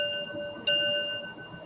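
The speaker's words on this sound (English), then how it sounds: "like someone was calling in with a bell" A single bright bell strike rings out clearly with a sustained, slowly decaying metallic tone, heard alone against a quiet background.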